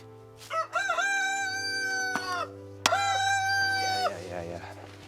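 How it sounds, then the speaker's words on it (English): Roosters crow loudly and close by, two long cock-a-doodle-doo calls with a sharp tap between them, a low steady hum underneath and brief clucking near the end. "Let's move on to the roosters."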